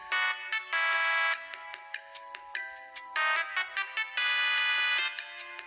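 A loud, piercing electronic tone sounds in repeated bursts with brief gaps, harsh and close, with no talking, from a DS18 PRO-DRNMS neodymium midrange compression driver.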